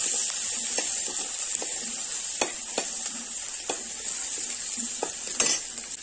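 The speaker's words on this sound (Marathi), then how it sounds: "त्यानंतर मिरची आणि लसूण आपल्याला परतून घ्यायचंय." Crushed green chili and garlic sizzle in hot oil on a wood-fired stove, a steady hiss broken by scattered clinks and scrapes of a spoon against the pan, heard close with no talking.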